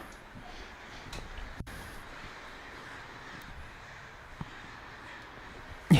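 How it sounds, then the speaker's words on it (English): Crows cawing outdoors, harsh calls repeating at a moderate distance over quiet background noise, with a sharp knock near the end. "Those are some great birds."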